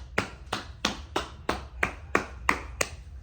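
Nine sharp, evenly spaced hand claps from a single person, close and fairly loud, repeating at a steady rhythm of roughly three per second with no speech over them, offered in tribute to a Texas quarterback after a football game.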